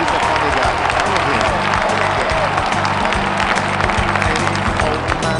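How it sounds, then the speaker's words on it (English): A crowd applauds comedian Jon Santos at a show, with loud, busy clapping layered over steady background music throughout. "Another round of applause for Jon Santos."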